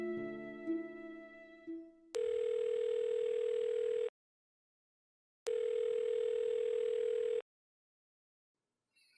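Telephone ringback tone on an unanswered call, two long steady buzzing rings separated by silence, loud and alone with no talk, after a brief bit of music at the start.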